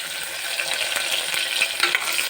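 Mutton fries with onion and tomato in a pan, making a close, steady sizzle broken by a few sharp clicks of stirring.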